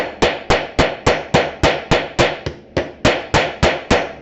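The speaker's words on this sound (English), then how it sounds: "And then I turn the hammer over, I use the flat side," Fifteen sharp metallic taps of a hammer's flat side on a brass fitting in a steady rhythm, each with a brief ring, close and clear with no talking.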